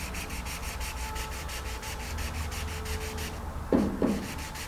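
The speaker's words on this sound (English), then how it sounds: "I'm just using the tip of that block right through here." Sanding block rubbing across cured automotive clearcoat to knock down dirt nibs, a steady close scrubbing hiss with short strokes using the block's tip, ending in two sharper rasps.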